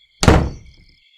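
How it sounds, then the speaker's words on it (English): A single heavy door slams shut in a video game, a loud close thud that rings briefly and fades within half a second over a faint high electronic tone. "Damn it, how could they have not heard that door slam?"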